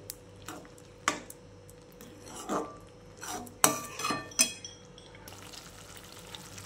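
A spoon works through paneer masala gravy in a pot, giving several separate scraping and clinking stirs against the metal over a soft background hum.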